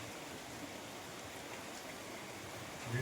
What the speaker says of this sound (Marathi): पाऊस चालू आहे, पाऊस.